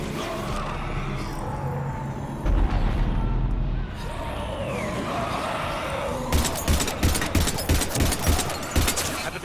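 Gunfire aimed at husks in a video game: bursts of rapid shots and heavy impacts, loud and near, grow denser toward the end, with shouting voices and game noise in the mix.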